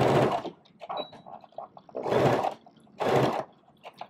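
A sewing machine stitches stretched elastic onto fabric baby booties in three separate bursts of whirring, each about half a second long, with quieter handling and clicks between them.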